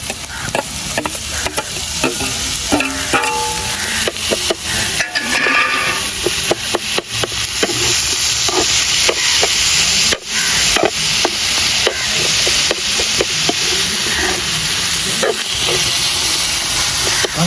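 Onions and tomatoes sautéing in a pan with salt, a steady close sizzle and hiss under repeated scraping and stirring clicks from a spatula, continuous throughout.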